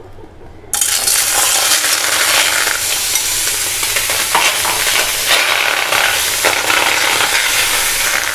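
Cut, pitted plums land in a pan left heating on the stove and burst into a loud, close sizzle that holds steady and crackles for several seconds, with no voices.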